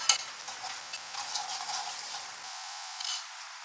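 Turmeric dropped into a tempering sizzling in hot oil gives a continuous crackling fry with light ticking stir sounds, close and fairly loud, then the sizzle softens toward the end.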